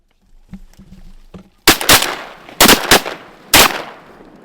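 Shotguns fire at ducks during a Mississippi Delta hunt, four loud close blasts in quick uneven succession after a quiet stretch of faint rustling and calling.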